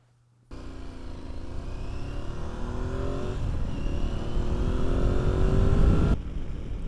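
Motorcycle engine held at full throttle on an open road, a steady loud roar that climbs gradually and holds before easing slightly near the end, with wind rush and no talk.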